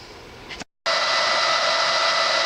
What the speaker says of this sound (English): Heating this up with a hairdryer